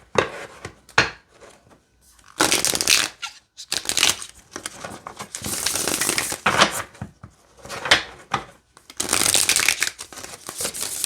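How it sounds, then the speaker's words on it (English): A deck of Labyrinth Tarot cards is shuffled by hand in repeated bursts of crisp riffling and sliding, separated by short pauses, loud and close with no talking. "let's see how it shuffles"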